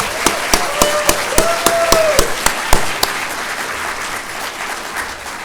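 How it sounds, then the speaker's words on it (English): Audience applause at a VR expo's opening remarks, with sharp louder claps standing out over a steady crowd clatter for several seconds before gradually thinning. "So please give them all one final round of applause."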